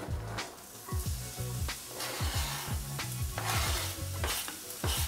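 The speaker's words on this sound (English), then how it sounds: "half an onion, pan fry in olive oil" Half an onion pan-frying in olive oil, a steady close sizzle with repeated scraping stirs of a utensil in the pan, no talking.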